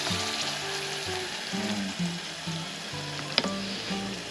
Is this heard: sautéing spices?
yes